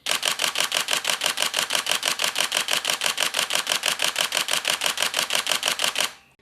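Nikon D7200 DSLR shutter firing a rapid continuous burst of about six frames per second, a steady train of sharp mechanical clacks running roughly six seconds before stopping abruptly, close and loud with no talking.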